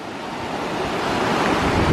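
Rushing river near the Pailon del Diablo waterfall in Ecuador: a dense, continuous roar of water with wind buffeting the microphone, steady and loud, rising slightly toward the end.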